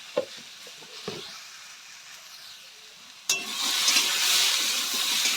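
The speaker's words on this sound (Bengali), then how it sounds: "এরপর হলুদ দেব। তারপরে আবার নাড়ব।" Carrot curry being stirred in a pan after turmeric goes in, a few soft scrapes at first, then a loud, steady sizzle and stirring noise that fills the rest of the moment with no voice.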